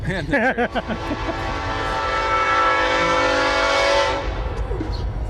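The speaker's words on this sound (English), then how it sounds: "And the train." A train passes near a village of homeless residents, with a long, loud horn blast that sustains for several seconds before trailing off. A few vocal sounds come briefly at the start.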